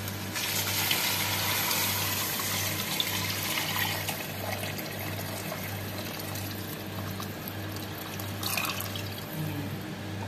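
Water poured steadily into a cooking pot while making arroz caldo, a continuous splashing gush lasting several seconds, close by with a low hum underneath and no talking.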